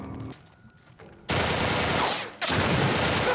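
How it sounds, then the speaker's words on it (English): Burst fire in the video game The Last of Us Part 1, a dense, loud roar of rapid gunfire that starts abruptly, drops out briefly, then resumes just as intense. "That's gotta be burst fire."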